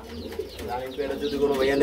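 Suchandan pigeons coo close by in soft, throaty, repeated calls, with people talking over them.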